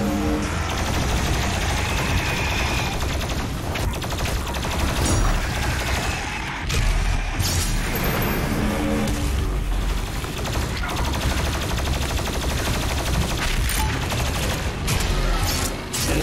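Dense rapid gunfire from a weapon in the video game Doom Eternal, continuous bursts of shots blended with other game combat noise, loud and sustained with no speech.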